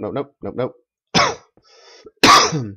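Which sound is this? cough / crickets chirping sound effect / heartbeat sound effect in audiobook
cough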